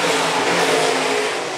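IMCA stock cars roar past on a dirt oval during a feature race, a dense sustained engine blare that stays loud and steady throughout, with no talk over it.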